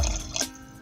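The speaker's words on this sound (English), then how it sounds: "we're going to pour it in our pot. This is filtered water." Filtered water is poured into a cooking pot in a kitchen, giving a brief, soft splash and trickle that lasts under a second, with no talk.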